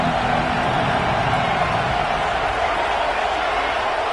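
A home stadium crowd at a college football game gives off a loud, steady roar that fills the whole stretch without a break.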